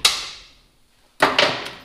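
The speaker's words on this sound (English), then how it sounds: "And a big hammer." Two to three sharp metallic blows from a big hammer knocking parts loose on a bubble-style pot still, one ringing strike followed after a pause by a closer pair of heavy hits, loud and alone.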